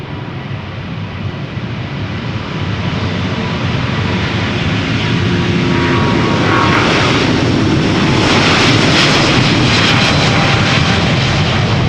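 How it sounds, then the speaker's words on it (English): A China Southern Airlines Airbus A350-900 jet taking off at Amsterdam Schiphol on flight 308 to Guangzhou, a loud, broad, steady engine roar that swells and grows brighter as the aircraft passes close by. "Choina Southern Airlines, flight 308, going to Guangzhou. It's an A350-900."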